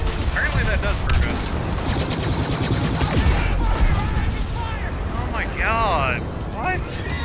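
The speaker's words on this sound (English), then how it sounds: "Those cannons are like dubstep cannons." Rapid booming cannon fire and explosions rumble continuously in a game, with a voice talking over the chaotic barrage.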